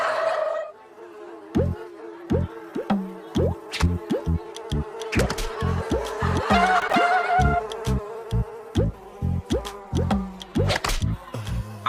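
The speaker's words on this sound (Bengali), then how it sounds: "আমরা মাছির দোকানে মিষ্টি কিনতে এসেছি নাকি মিষ্টির দোকানে মাছি কিনতে? এমন ভন করছে কানের গোড়ায়" Cartoon flies buzz around a sweet shop, their whines rising and falling among quick comic plucks and hits, loud and close.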